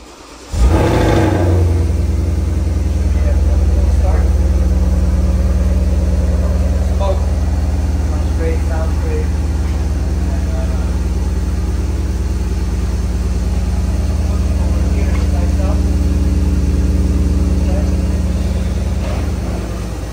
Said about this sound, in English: So we're going to do a quick start on the engine.